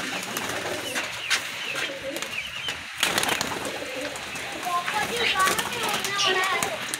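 Pigeons being let out of their loft coo and flutter close by, with busy background chatter, children's voices and people talking over the birds throughout.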